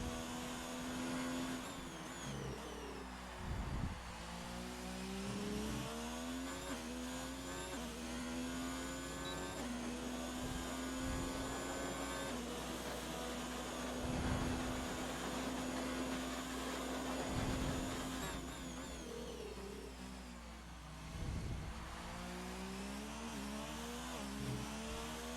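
Race car engine on a hot lap around the Bahrain circuit in a racing video game, a steady sustained drone that swells and dips as the car shifts and brakes through corners, continuous and close with no talk.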